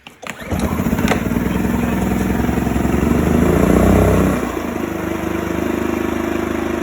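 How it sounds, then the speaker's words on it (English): A WEN 56235i inverter generator is pull-started with the choke on. The engine catches at once and runs at a loud, steady drone that climbs a little before settling to a lower, even idle. It is heard close up with no talking. "you put your switch on, run your choke just to start it"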